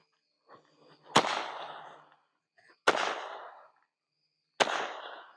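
Desert at Night hybrid fountain firework firing off: three sharp loud cracks spaced about two seconds apart, each fading into a crackling, hissing tail, heard outdoors with no talking.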